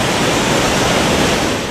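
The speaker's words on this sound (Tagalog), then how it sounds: "Nakakatakot ang napakalakas na ragasan ng tubig dito sa creek." Floodwater rushes through an overflowing creek during heavy rain near Laguna Lake, a loud, continuous, broadband roar without pause that fills the whole space close by.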